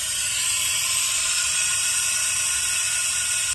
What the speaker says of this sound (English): Pulling a vacuum over here.